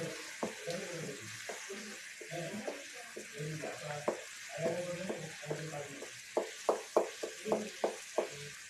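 Leftover rice halwa stirred in a pan with a spoon, giving a series of soft scraping, sticky strokes that sharpen into rhythmic clacks near the end, with faint kitchen background throughout.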